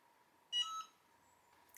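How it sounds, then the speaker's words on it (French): A Cricut Hat Press gives a single short electronic beep when it reaches temperature, clear against a quiet room. "Ma hâte presse vient de biper, elle est à la bonne température."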